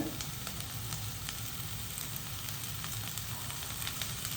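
Mixed vegetables and broad beans frying in a pan, a soft, even sizzle held steady throughout with faint stirring ticks, no talk.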